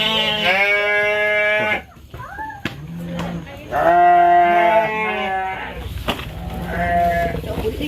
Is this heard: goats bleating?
yes